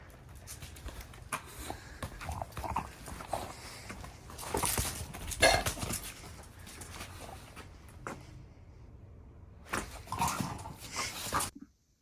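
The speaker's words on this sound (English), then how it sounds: "You see the dog." Dog outdoors at night whimpering close by amid shuffling, pattering movement and rustling, with bursts of louder noise rising and fading over several seconds.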